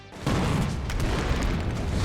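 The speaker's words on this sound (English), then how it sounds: "With a thunderous boom, the several meter thick wall is blasted open." Cannon fire blasting open a several-meter-thick city wall in a medieval battle, a sudden deep thunderous boom that swells and rumbles on loudly and densely with no voices.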